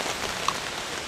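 Steady rain patters on a hammock camp, an even, close wash of drops with one brief sharper tap midway and no voices.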